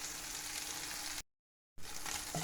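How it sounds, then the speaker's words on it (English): Bacon meatballs fry in a pan with a steady, close sizzle and crackle, broken by a brief silent gap before the sizzling resumes. "we'll fry the meatballs"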